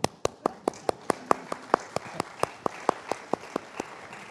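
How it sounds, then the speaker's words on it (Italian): Applause at a photography lecture in Italy: a run of sharp, evenly spaced claps at a quick steady pace, fairly close and alone, with no talking over them. "Ti devo applaudire."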